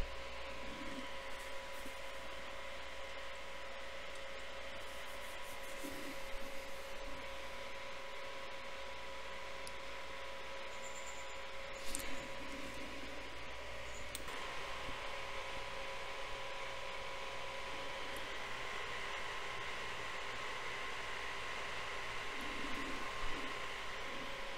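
A sewing machine stitches ruffles onto a girl's outfit, giving a steady, continuous mechanical whir with a faint motor hum that runs unbroken throughout, with no talking.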